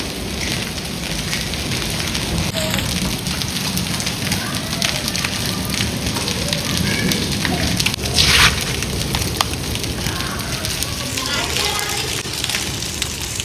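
Large hailstones pelt down hard during a violent storm, a dense unbroken clatter and hiss of impacts on surfaces that holds steady throughout, with a brief sharper knock partway through.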